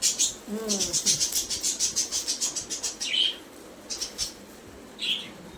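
A sparrow chirps rapidly in a quick repeating series, then a few shorter separate chirps, fairly close and clear with no talking.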